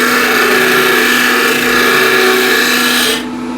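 A skew chisel takes peeling cuts on a wood lathe, rounding the spinning blank with a steady, loud continuous rasping scrape that holds for about three seconds before dropping off sharply.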